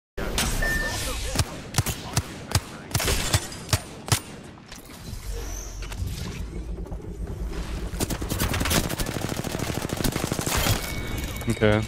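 Octane firing from the hip in Apex Legends: a run of sharp single shots, then a sustained rapid burst of automatic fire, loud and close, with someone talking in between.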